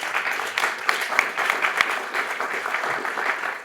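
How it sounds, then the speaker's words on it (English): Audience applause for the panelists at the end of a round-table discussion at a forum: dense, steady clapping from a sizeable crowd filling the room, with no voices over it. "including an applause for all the panelists of this round table, please"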